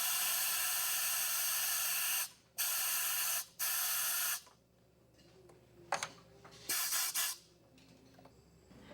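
A scuba regulator's second-stage purge valve is tested with loud, sharp bursts of hissing air, one long blast followed by two shorter ones, then quieter mechanical handling and a few more brief bursts.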